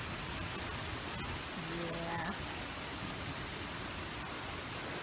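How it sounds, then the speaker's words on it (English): Wind-driven rain at the start of a tropical storm, a steady broadband wash of rain and gusts close by, with a brief rising tonal whine partway through. "You can tell through here the rain is going all kinds of ways. It's just windy and stuff."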